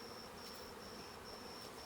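Honey bees buzz during a beehive inspection, a faint steady drone with a thin high whine, continuous and alone.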